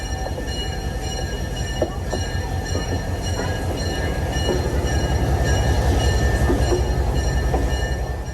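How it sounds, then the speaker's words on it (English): Steady rumble and clatter of a tourist train engine, uncoupled from its cars, moving on rails nearby as it passes them in New Hampshire's White Mountains, with faint metallic tones, swelling slightly as it passes. "The engine unhooks from the cars and passes the train."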